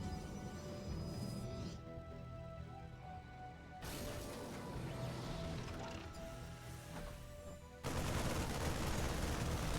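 A StarCraft 2 siege tank fires on marines amid a busy mechanical clatter of rapid gunfire, with sharp bursts cutting in and out across several seconds of quiet, crowded skirmish noise.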